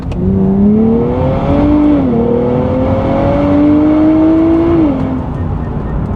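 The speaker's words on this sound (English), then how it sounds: "I'm gonna pop the paddle shifters. I'm into 5th, 4th, 3rd, 2nd." A 2023 Nissan Z drops through its gears on the paddle shifters, the loud, close engine note climbing, then stepping down and flaring with each downshift before falling away.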